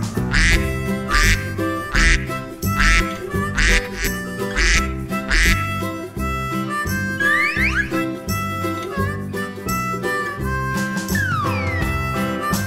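Repeated duck quacks in a regular rhythm over a busy musical backing, loud and upfront, with a few whistle-like slides in between.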